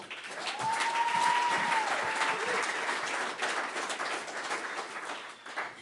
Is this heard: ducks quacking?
no